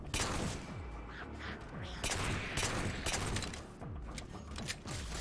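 Gunfire in the video game Halo 4, with dense bursts of weapon fire and impacts that come in loud waves over a busy game soundscape.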